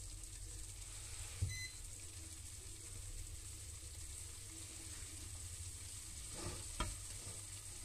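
Bolognese sauce in a hot pan gives a faint, steady sizzling hiss with a couple of soft clinks from the pan.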